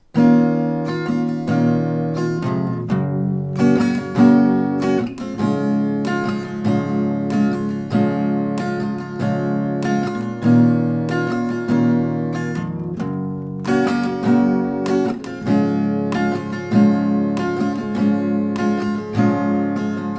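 Steady chords strummed on an acoustic guitar in a regular rhythm, loud and close, with no voice over them.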